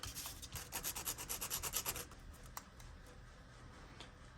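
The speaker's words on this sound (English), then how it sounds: "So grab our sandpaper." Sandpaper rubs back and forth along the wrapped edge of an X Factor panel, making quick rhythmic scratchy strokes up close for about two seconds, then a faint quiet after.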